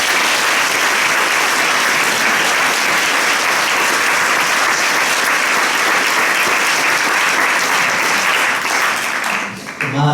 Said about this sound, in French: Merci à elle, on peut l'applaudir.